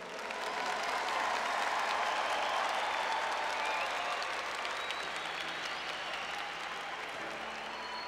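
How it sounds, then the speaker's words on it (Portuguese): A church congregation applauds in a sustained, dense roar of clapping that holds steady and eases slightly later, with faint voices mixed into the crowd. "Pode aplaudir mais forte"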